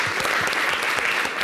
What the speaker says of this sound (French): Viens, on l'applaudit, va venir.